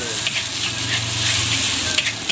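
An egg fries for nasi goreng at a street stall, with a loud, steady sizzle and some stirring scrapes and clanks close up, and no talk.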